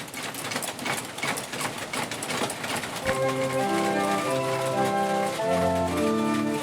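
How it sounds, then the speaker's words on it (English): Clockwork mechanism of a mechanical city with nearly 200 moving figurines coming to life: a dense rattling, ticking mechanical clatter that gives way to tinkling music-box-like tones that continue to the end. "As the machine comes to life, almost 200 figurines begin to move."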